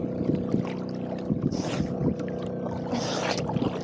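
A boat moving on water, with sloshing splashes and a low engine-like drone, plus bursts of wind noise against the microphone.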